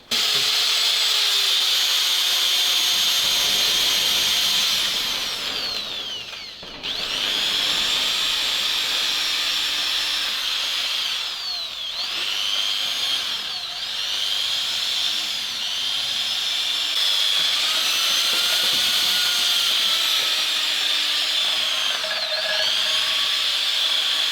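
A ZIL truck engine recovered from water is pressure-washed during restoration, a loud continuous high-pitched spray hiss and motor whine that dips and swells as the jet moves across the metal.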